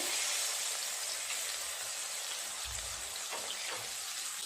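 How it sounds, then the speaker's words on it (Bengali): Pointed gourd pieces fry in oil with a dense, even hiss like light rain, close and steady, with a couple of low thuds as they are turned, and no talking. "দুটো পাশ একটু ভালোভাবে উল্টে পাল্টে ভেজে নিয়েছি পটলগুলো।"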